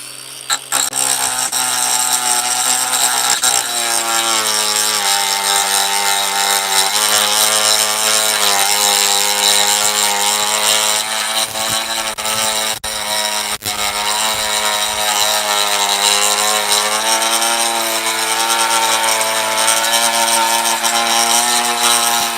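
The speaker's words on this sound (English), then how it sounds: "it's going to take a bit of work to cut that through. But this tool's handling it well." A Ryobi 18V cordless edger slowly cuts through an overgrown lawn edge, its motor holding a loud, steady whine with a slightly wavering pitch for the whole stretch, no voices over it.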